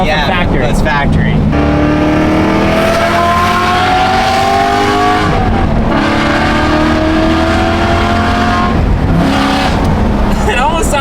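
A modified BMW F81 M3 wagon revs hard and its engine note climbs repeatedly, loud and close with a brassy, trumpet-like tone, while people talk over it.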